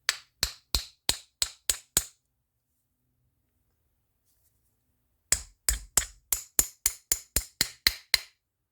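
Small hammer tapping a part of a Shakespeare Wonderflyte 1765 spin cast reel: a quick run of six sharp taps, a pause of a few seconds, then about ten more evenly spaced, close and crisp taps.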